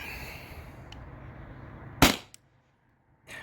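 A Salt Supply S2 CO2 salt gun running off a 20 oz tank fires a single shot: one loud, sharp crack with a quick echo, then near silence and a brief later rustle.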